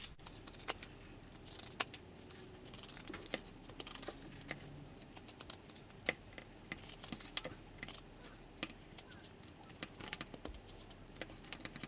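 Scissors trimming fabric seam allowance on a sewing project, a series of close, crisp snips and clicks in an irregular rhythm, fairly quiet with no talking.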